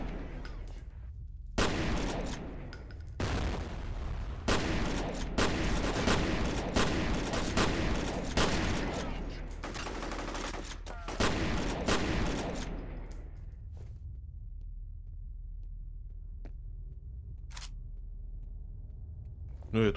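Shotgun blasts in F.E.A.R., a dense run of loud, sharp shots fired in quick succession for about twelve seconds, then near silence with one faint later crack; a voice talks at times.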